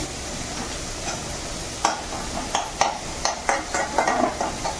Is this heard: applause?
no